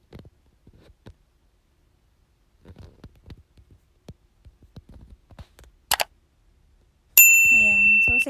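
A shrill electronic bell chime for a subscribe button rings out alone and loud after scattered faint clicks and quiet handling sounds.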